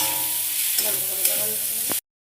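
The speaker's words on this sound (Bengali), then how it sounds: "মশলাটাকে আমি একটু জল দিয়ে ভালো করে কষিয়ে নিয়েছি" Spice masala with tomatoes and green chillies fries in a pan with a loud, steady sizzle, broken by a few clinks and scrapes of stirring, before cutting off abruptly.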